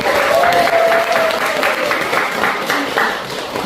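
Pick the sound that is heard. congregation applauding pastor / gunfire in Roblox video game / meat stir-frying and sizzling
congregation applauding pastor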